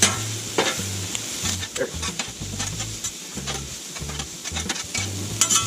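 Meat and vegetables for Philly cheesesteaks sizzle on a Blackstone griddle while a spatula scrapes and stirs them in repeated bursts. Someone speaks briefly.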